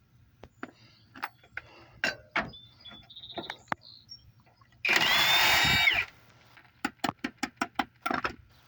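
A power tool bursts on for about a second to spin bolts off the rear axle of a 1987 Chevrolet El Camino, amid a string of sharp metallic clanks and ratchety taps from working on the undercarriage.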